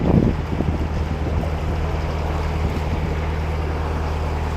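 A canal boat engine in forward gear chugs steadily at close range, a constant low drone under wind noise with no talking.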